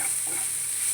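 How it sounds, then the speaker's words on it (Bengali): Onions with salt frying in a pan give a steady, close hiss of sizzling oil while being stirred, a continuous bright crackle with no pauses. "নাড়া শুরু করবো।"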